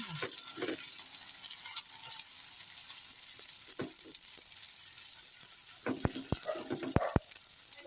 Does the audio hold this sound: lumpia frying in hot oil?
yes